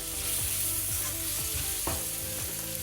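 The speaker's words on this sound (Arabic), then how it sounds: "بنضلنا نقلب فيه البصل لحديت ما يدبل." Onions frying in a pan for Palestinian musakhan give a loud, constant sizzle, broken by regular scraping stirs from a spoon, with no voices.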